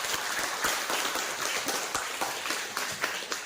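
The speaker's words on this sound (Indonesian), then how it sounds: "Beri aplaus untuk Deborah." A classroom of students claps for a student named Deborah, a short burst of dense, lively applause held at a steady level.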